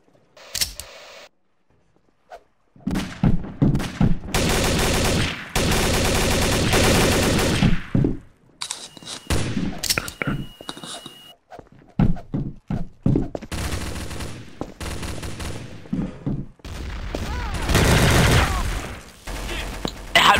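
Bursts of gunfire from the video game Trouble in Terrorist Town, loud rapid volleys and single shots in several clusters separated by short quiet gaps, with no talk over them.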